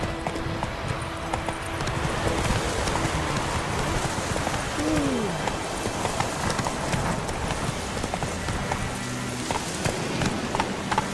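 Horse hooves clip-clop steadily in The Witcher 3 video game, a continuous trotting rhythm under wind and ambient outdoor game sound, with a brief bird-like call partway through.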